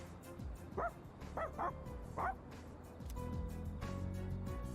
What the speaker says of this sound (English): Koromaru is trying to reason with the stray dog.